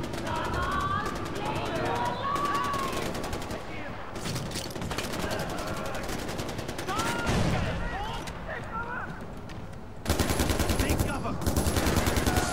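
Rapid gunfire from a Far Cry 4 firefight, bursts of automatic shots crackling through a dense, busy battle mix with a person talking over much of it, growing louder near the end.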